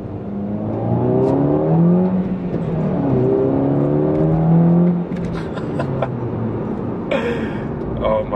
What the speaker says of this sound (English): the turbo spool is just so addicting